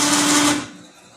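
A 3,000 lb remote control winch whirs loudly for about half a second, then cuts off and fades to a quiet background.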